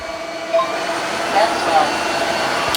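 A Tineco Floor ONE S7 PRO cordless wet-dry vacuum in max mode whirs steadily with a broadband rushing hiss, a few brief swells in pitch rising over the constant drone.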